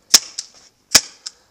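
Two loud, sharp paintball gun shots fired close by, each a crisp pop followed by a fainter impact snap, with a short pause between them.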